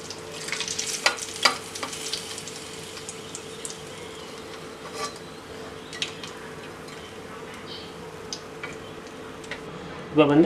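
Chicken frying in oil over a low flame, giving a soft, steady sizzle with occasional crackles and spoon-like clinks.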